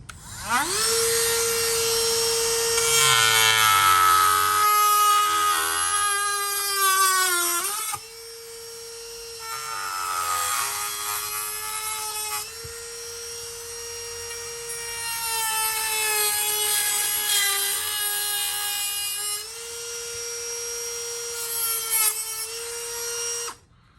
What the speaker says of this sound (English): All right, let's cut this guy out.